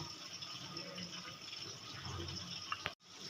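A small amount of water is poured into a mixture for a vegetarian curd-and-pointed-gourd dish, giving a soft, continuous trickle at close range that stops abruptly near the end, with no voices.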